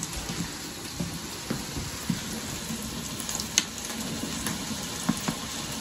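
Water at a rolling boil in a home hotpot with ramen noodles added for soup, a steady close bubbling and faint sizzling hiss with a few sharper pops, no voices.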